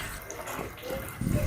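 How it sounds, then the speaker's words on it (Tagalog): Water running from a tap into a pot while preparing pancit noodle soup with chicken broth, a steady close splashing that grows louder and heavier near the end. "Lalagyan ko na ng tubig at isasama ko na rin ang chicken broth."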